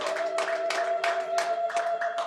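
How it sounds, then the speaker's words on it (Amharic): Church audience clapping in a steady, irregular rhythm, fairly close and lively, with a sustained tone beneath the claps. "ካጨበጨባችሁ ለሰራዊት አምላክ ለእግዚአብሔር በደንብ አጨብጭቡ"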